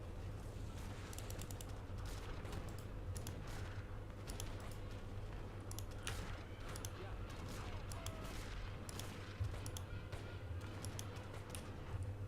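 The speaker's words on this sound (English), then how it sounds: "Just some artillery to destroy their stuff." Artillery and gunfire in the strategy video game Age of Empires 3, rapid scattered shots crackling in the distance over a low, steady battle rumble, faint and continuous.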